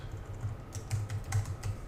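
Quick, irregular clicks of typing on a computer keyboard, close and clear against a low background hum, with no voices.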